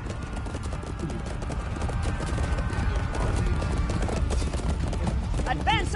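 A horse gallops in a video game, rapid steady clip-clop hoofbeats running throughout over a busy game soundscape, with a voice talking in the background.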